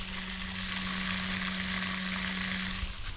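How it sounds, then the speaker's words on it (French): A noisy water pump on a Carters Boost scooter fitted with an Airsal 70cc cylinder whirs with a steady, close hiss over a constant low hum, unchanging throughout with no talking. "Ma pompe à eau fait des bruits, c'est peut-être pour ça qu'on a 68 degrés."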